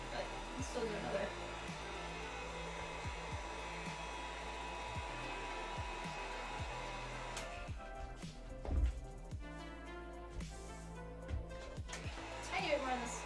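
A heat gun blows steadily while heat-treating red craft foam, a constant airy whoosh under scattered taps and knocks, with a voice speaking faintly at times.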